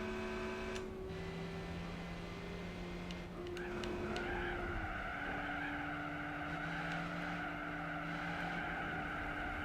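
A PT Cruiser understeering in Gran Turismo 4, its tires skidding with a sustained tonal squeal and engine drone that rises partway through, loud and continuous throughout.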